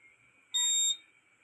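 A single electronic beep from a Honda Click 150i v2 scooter during keyless code entry, a clean high-pitched tone lasting under half a second, close and alone against near silence.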